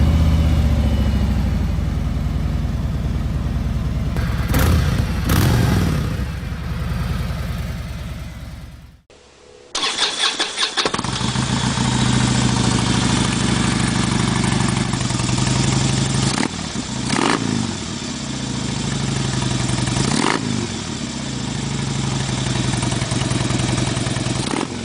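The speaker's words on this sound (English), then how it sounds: "Let's play the sound clips and let the exhaust speak for itself." A Harley motorcycle fitted with a Rinehart Xtreme True Dual Exhaust rumbles loud and close, with several throttle revs rising over a steady idle and a brief cut near the middle; no talking.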